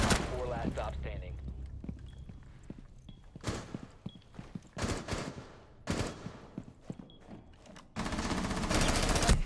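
Gunfire in Rainbow Six Siege, with sharp rapid bursts of shots separated by short gaps, closing with a long loud sustained burst, plus scattered footstep-like thuds and a voice talking faintly in places.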